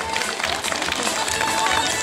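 Dense, steady crowd applause at a village festival, the Janinų ir Jonų gegužinė in Matuizos in 2015, sounding continuous and fairly loud for the whole stretch, with a voice faintly audible over the clapping.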